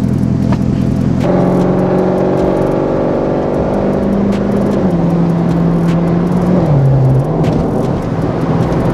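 A Chevrolet Corvette sports car engine revs hard and close, a loud sustained roar whose pitch climbs and then steps down through several gear-like shifts before settling.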